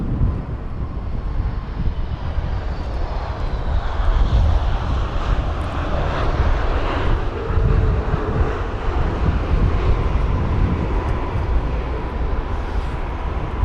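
A Royal Air Maroc Boeing 737 MAX arriving from Casablanca lands at a windy Heathrow, its engine roar and a slowly falling whine mixed with gusty wind buffeting, sustained and fairly loud, no voices.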